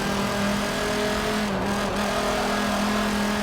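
A Dodge Viper GTS-R race car's engine in Forza Motorsport 7 at Sonoma Raceway drones loud and sustained, with a brief dip in pitch midway as it shifts, and no talking.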